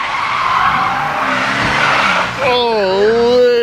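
Tires squeal and skid from cars being driven dangerously on a street, a loud sustained screech that bends and wavers in pitch, with voices and excited chatter mixed in.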